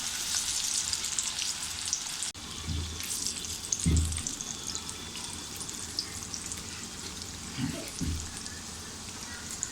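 Chana dal and moong dal bhaji deep-frying in hot oil give a steady, dense sizzle throughout, with a few soft low knocks and bumps from the pan partway through.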